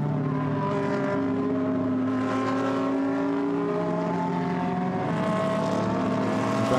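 GT race cars drive through turn 11 of a circuit in Hungary, their engines a steady, loud drone with overlapping pitched tones sliding up and down as several cars pass close by.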